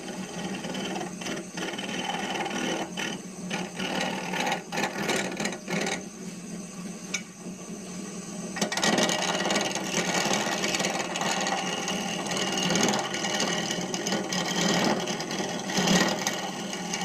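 Woodturning tool cutting intermittently into a spinning wooden sphere on a lathe, a steady near whirring hum broken by repeated scraping bursts that grow louder and denser in the second half.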